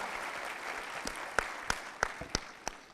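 Audience clapping for Sachin at a talk on disability reservation and accessibility, a soft wash of applause with a handful of sharper individual claps standing out near the front.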